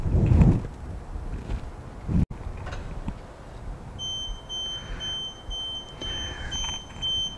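A TLS 350 tank monitor sounds its alarm after rebooting, a steady series of high beeps pulsing in a regular rhythm, with wind noise and handling bumps around it.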